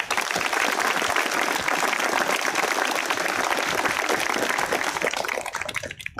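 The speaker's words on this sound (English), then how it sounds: "And as you rose in applause for Andy and Beth Maxwell." At an eighth grade graduation, an audience applauds in a long, dense burst of clapping that holds steady and then tapers off near the end.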